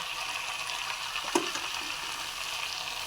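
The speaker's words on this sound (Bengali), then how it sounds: "এবার আমি শাকগুলো দিয়ে দিচ্ছি" Leafy greens are tossed into a frying pan with chili powder and salt, setting off a steady sizzle with one brief sharp clatter, heard from a moderate distance without talking.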